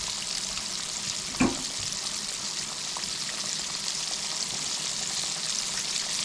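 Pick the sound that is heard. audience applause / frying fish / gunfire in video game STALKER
frying fish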